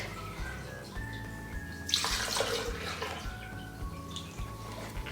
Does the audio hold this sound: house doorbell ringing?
no